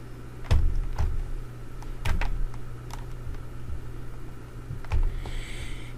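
Sharp computer mouse clicks at a desk, a handful of quick, close taps spaced irregularly over a quiet room hum.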